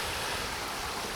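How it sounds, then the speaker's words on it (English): Stream water pouring steadily down a channel past a worm and into a pond, a continuous close rushing wash with no breaks across the short stretch. "the water just flows down through here right by the worm"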